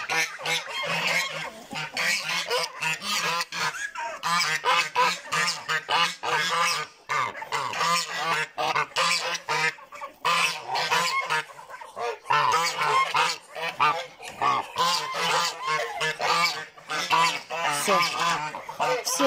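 A flock of geese honks loudly and continuously on a farm where muscovy ducks and a turkey are also kept, overlapping calls filling the whole stretch with a busy, close-up cackling chorus.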